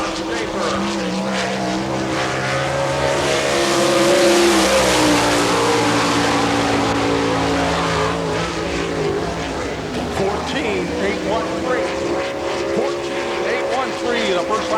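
Race car number 88 laps the Barberville speedway dirt oval during Florida Speedweek with a loud, continuous engine roar that rises and falls in pitch as it passes, with talk over the track noise.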